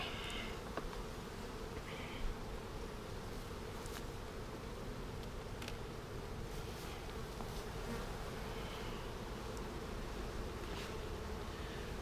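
Package bee colony buzzing steadily inside a hive in July, a dense continuous hum of many bees close by, with faint individual insect passes over it and no voices.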